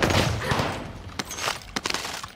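Gunshots in a quad-squad battle royale video game, a quick burst of rapid fire followed by a few sharp separate shots and thuds, loud and close.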